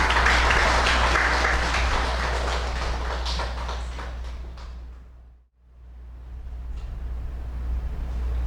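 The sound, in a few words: church congregation applauding to welcome a missionary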